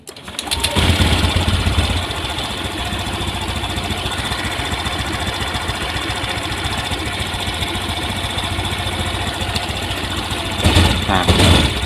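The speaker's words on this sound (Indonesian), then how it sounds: "Nah sekarang kita hidupkan motornya." A Honda Scoopy FI motorcycle engine starts up with a brief crank and then settles into a steady, close idle, holding an even buzzing drone throughout, with a short rise in revs near the end.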